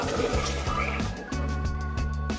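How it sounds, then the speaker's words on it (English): Water poured into a pot holding one cup of millet, two cups going in for cooking; a steady gushing splash under light kitchen clatter, with a few sharp knocks. "So for 1 cup of millet, I'm adding 2 cups of water."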